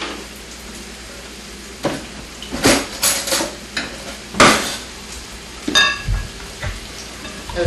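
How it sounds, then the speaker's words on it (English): A spoon stirs a sour cream mixture in a bowl, with a string of irregular scraping and clinking strokes in short bursts, close and fairly loud, no voices. "Just kind of stir it up."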